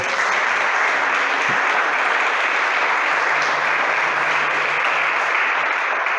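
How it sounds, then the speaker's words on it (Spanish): Congregation in a church service breaking into steady, dense applause that holds at full strength throughout, with a faint low hum running underneath. "Denle un aplauso a su nombre glorioso."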